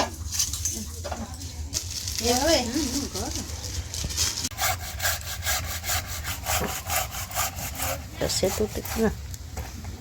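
Palm jaggery (patali gur) scraped on a kitchen grater for coconut filling, a steady rasping, gritty stroke after stroke, close and fairly loud, with brief talk and kitchen clatter in places.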